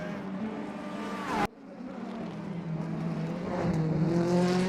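DTM race cars in a sim racing game at a Moscow circuit, engines droning steadily with harmonic whine, a sharp cut midway then rising revs as the cars accelerate, continuous and fairly loud.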